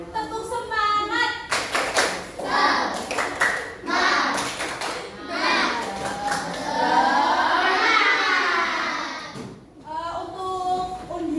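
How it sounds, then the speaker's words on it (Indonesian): A classroom of students does a rhythmic spirit clap, sharp hand claps in patterned bursts mixed with children's voices calling out and chanting along, fairly close and lively. "kita tepuk semangat dulu ya. Tepuk semangat."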